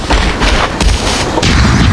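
A grenade blast in the Arena Breakout shooter game: a loud, deep boom with a rumbling tail, followed by more heavy thuds and explosive bursts across two seconds, with no talk over it.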